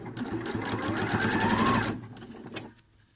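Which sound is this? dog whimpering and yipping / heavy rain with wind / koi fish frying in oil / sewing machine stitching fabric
sewing machine stitching fabric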